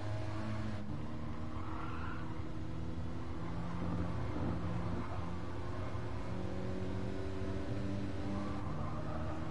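Porsche Cayman engine on the Nürburgring Nordschleife, a steady droning tone that dips and climbs as gears change, heard from inside the car at moderate level.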